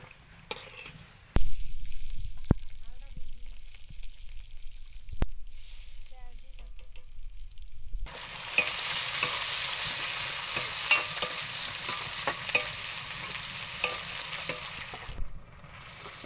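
Bori, small lentil dumplings, fry in oil in a home kitchen with a steady close sizzle in the latter half, after quieter stirring clinks and scrapes and a few sharp knocks, with speech at times.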